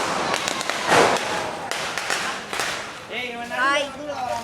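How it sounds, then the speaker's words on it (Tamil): Country firecrackers bang during an outdoor Diwali celebration, a loud sharp blast followed by crackling rumble and echoing pops, with people talking and exclaiming close by. "நாட்டு வெடி அடிச்சாச்சு."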